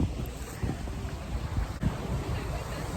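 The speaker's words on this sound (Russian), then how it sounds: "Вот такой пляж, море." Sea waves at a beach in Kemer, a steady wash of surf mixed with heavy wind buffeting the microphone, with soft thumps of gusts throughout.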